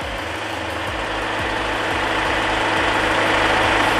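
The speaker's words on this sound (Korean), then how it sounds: "엔진 소리도 굉장히 양호한 차량으로 확인이 되었고요" A Hyundai Grand Starex van engine idles steadily nearby, a loud even rumble with a faint rhythmic pulse, gradually growing a little louder.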